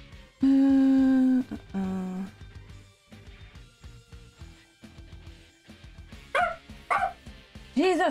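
A dog barks and yelps in short loud bursts from close by, with a few sharp yips near the end, mixed with a person's voice and some background sounds indoors.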